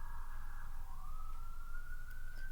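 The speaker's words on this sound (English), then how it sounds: "we hear sirens right now." A siren wails faintly in the distance outside, a single sustained rising tone over a steady low background rumble.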